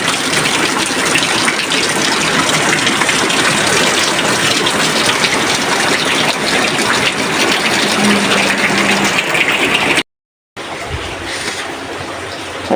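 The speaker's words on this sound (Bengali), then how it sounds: "অনেক আগে থেকে বৃষ্টি হচ্ছে" Heavy rain pours down in a dense, continuous roar, close and loud, cutting off briefly near the end before resuming.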